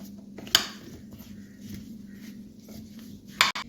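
Spoon stirring turmeric powder into mango pickle in a bowl, with soft scraping and squishing broken by two sharp metallic clinks of the spoon against the dish.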